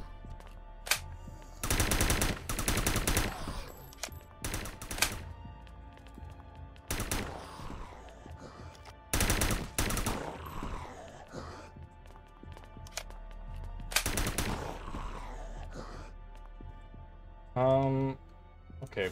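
Automatic gunfire in the zombie shooter game The Last Stand: Union City, loud repeated bursts of rapid shots separated by quieter gaps with footsteps and game effects, a voice talking between bursts.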